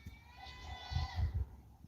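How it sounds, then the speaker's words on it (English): A goat bleats several times in quick succession, fairly close and moderately loud, with the cries bunched in the middle of a short stretch of faint background noise. "Listen to that goat."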